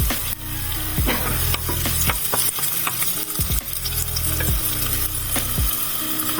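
Garlic sizzles in a hot pan, a bright, crackling fry broken by repeated scraping and clinking strokes of a utensil stirring it up close.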